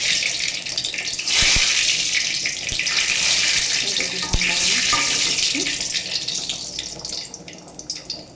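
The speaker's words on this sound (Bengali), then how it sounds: "এটা অফ করে খিচুড়ির ভিতরে ঢেলে দেবো।" Hot tempering of oil and bay leaf tipped into a pot of vegetarian khichuri with sweet potato, a loud rushing hiss bursting out and holding for several seconds before slowly easing, close up and with no talking.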